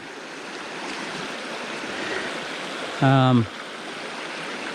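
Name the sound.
creek water flowing during motorcycle creek crossing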